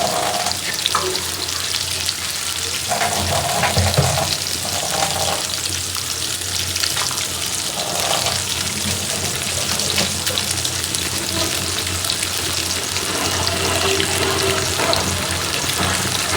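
Egg and potatoes frying in oil in a pan, a steady loud sizzle running throughout with faint clinks and stirring scrapes now and then.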